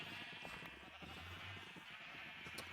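Grey sheep bleating in a farming video game, several overlapping bleats over a steady background hum, fairly faint.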